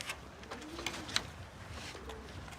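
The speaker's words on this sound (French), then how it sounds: "on élève des pigeons voyageurs et on les entraîne pour faire des courses" Homing pigeons kept on a rooftop terrace coo softly in the distance, low rolling calls under faint outdoor ambience, with a few light clicks and small rustles nearby.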